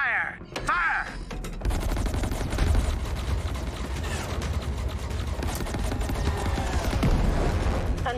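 Starfighter weapons in the space combat game Chorus fire in a sustained, loud barrage of rapid shots and blasts, with sharp bursts layered over a dense battle din after a brief quieter opening.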